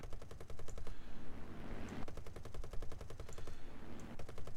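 Light machine guns on a P-26A-34 Peashooter fighter in War Thunder fire in rapid bursts separated by short pauses, with a steady engine drone underneath.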